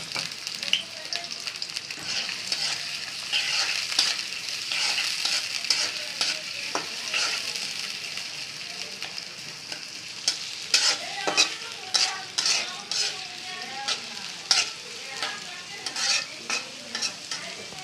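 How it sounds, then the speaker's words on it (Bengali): Onions sizzle steadily in a hot pan while a utensil scrapes and stirs them in repeated strokes, the scraping growing busier toward the end. "পেঁয়াজটা হালকা ভাজা হয়ে গেছে"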